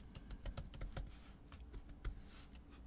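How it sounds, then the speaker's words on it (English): Password typed on a computer keyboard: a quick, uneven run of light key taps, close and fairly quiet, with no talking. "Now I can type in my new password"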